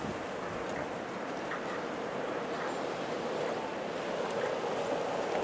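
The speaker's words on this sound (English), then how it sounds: "it's whipping the hell out of it" High winds rush through a large black walnut tree in New York, producing a continuous broad roar of gusting air and thrashing leaves with steady, heavy wind noise and no talk.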